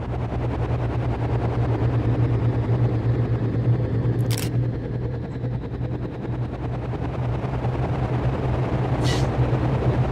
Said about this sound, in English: there's actually a sound called helicopter.